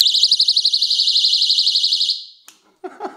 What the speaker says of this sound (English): so to sound the alarm, this chain right here comes out of this pin.